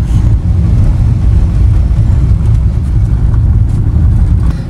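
Car being driven, a continuous loud low engine and road rumble with wind noise, steady for several seconds without talk.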